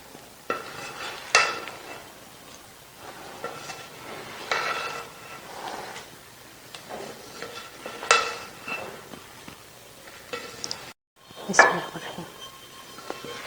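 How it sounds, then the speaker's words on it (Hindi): Cooked vegetable biryani rice being mixed in a pot, heard as soft scraping and stirring with a few louder clinks of the spoon against the metal at irregular intervals, fairly close. "पहले मिक्स करते हैं अच्छी तरह चावलों को।"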